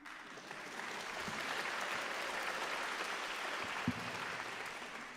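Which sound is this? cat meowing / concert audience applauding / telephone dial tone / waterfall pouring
concert audience applauding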